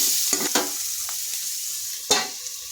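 A spatula stirs vegetable curry with tomato in a sizzling frying pan, giving a few distinct scrapes and knocks over a steady hiss.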